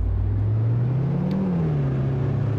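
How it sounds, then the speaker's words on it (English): Steady low engine drone with broad wind and road rush from a Range Rover Supercharged driving through a city in a simulator game, pitch rising gently then easing, continuous and close with no talking. "There is a lot of wind noise and road noise"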